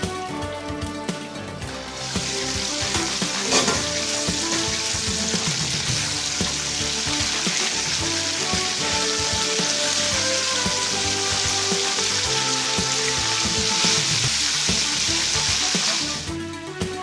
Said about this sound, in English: Cover the chicken for the first 10 minutes of frying.